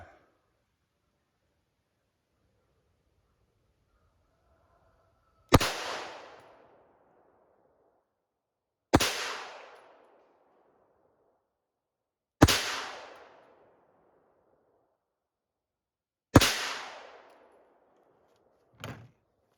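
A Rock Island 1911 .45 ACP pistol fires four loud, sharp single shots a few seconds apart, each followed by a short ringing decay, then a fainter fifth report at the end. No one speaks between the shots.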